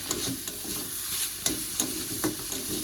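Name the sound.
leafy greens frying in pan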